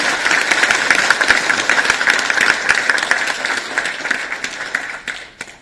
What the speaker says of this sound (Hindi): आप ताली बजाकर माननीय मुख्यमंत्री जी का अभिनंदन करें